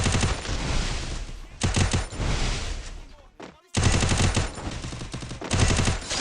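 Rapid automatic gunfire in the Free Fire mobile game, sustained bursts of shots in a loud dense stream, broken by a brief lull before firing resumes, with a player talking over it.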